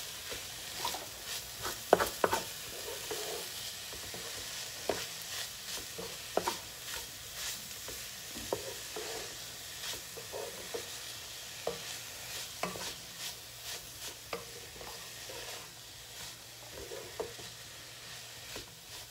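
Beef and green peppers are stirred and fried in a pot, with a constant sizzle under irregular scraping and clattering of the utensil against the pot, close and moderately loud, with no speech.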